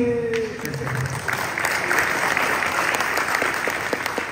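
Audience applause at a testimonial talk, a sustained round of clapping after a brief voice at the start.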